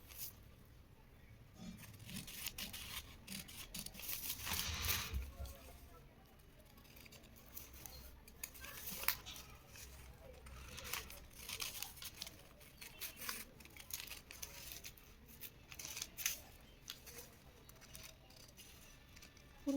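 Scissors cut a cloth sleeve pattern with quiet, irregular snips and soft fabric rustling, close but faint, continuing intermittently throughout.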